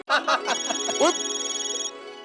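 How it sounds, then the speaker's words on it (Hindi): A phone ringtone sounds for about two seconds in a sitcom household scene, a sustained electronic warbling tone that rises and pulses at a steady rate, loud and close. "रोशन सिंह सोडी का फोन है"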